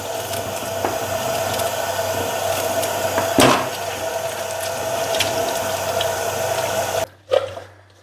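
Tap water runs steadily at close range while coriander is washed in a kitchen sink, a continuous rushing hiss with a brief splash near the middle before the flow cuts off at the end.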